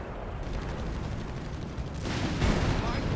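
Continuous crackle of small-arms and heavier weapons fire in a Company of Heroes 3 battle, steady and moderately loud with denser bursts toward the end, under a commentator's voice.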